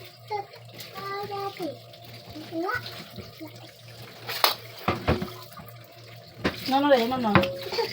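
Tap water splashes intermittently while milkfish is rinsed at a sink, with a child and an adult talking over the running water and a louder gush near the end.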